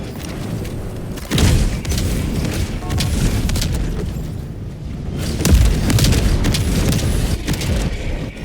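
Orbital barrage strikes in a video game, a string of heavy booming explosions and rumbling thuds, loud and close, rolling on one after another.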